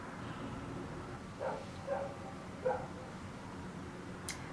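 A dog barks a few times at a distance, three short faint yips spaced about a second apart over a steady background hiss.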